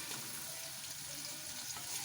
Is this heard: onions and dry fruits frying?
yes